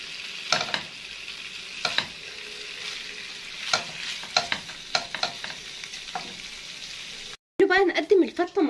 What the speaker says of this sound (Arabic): بعد ما حطيت السمنه كده، احط بقى ايه قطع اللحمه، اديها لون من الناحيه دي والناحيه دي